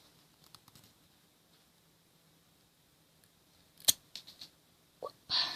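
A small stick is cut for a DIY pencil craft, heard as a few sharp, close snips and cracks near the end after a long quiet stretch.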